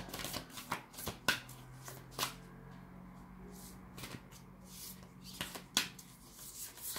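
A deck of tarot cards being shuffled in short riffling bursts separated by quiet pauses, fairly close and soft.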